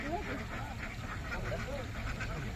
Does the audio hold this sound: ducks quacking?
yes